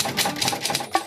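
Rapid mechanical clacking of a typewriter's keys, a steady run of close, crisp strikes with a brighter, sharper hit near the end, and no voices.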